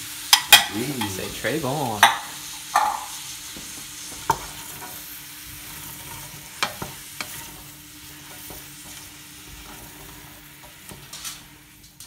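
Onions sizzle and fry in butter in a pan for French onion soup, a steady close hiss broken by stirring scrapes and clinks, with a short spoken remark early on.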